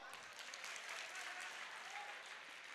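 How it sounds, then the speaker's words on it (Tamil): Audience applause at a Tamil stage comedy speech, a steady dense wash of clapping from a large crowd that holds evenly for the whole stretch, heard from a distance at moderate level. "கைத்தட்டுங்க பார்ப்போம்"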